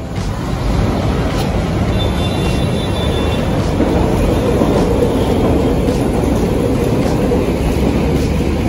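A steady, loud rumble of an LRT-1 light rail train running near United Nations station in Manila, with faint rhythmic clicks of the cars over the track and a constant high whine above.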